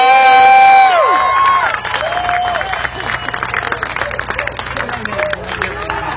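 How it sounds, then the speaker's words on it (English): Crowd applause with cheering and whoops bursts out at an outdoor slugburger eating competition, following a loud voice at the start, then continuing as lively scattered clapping and shouts under background music. "A round of applause for all our contestants."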